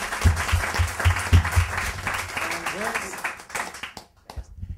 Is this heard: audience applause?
yes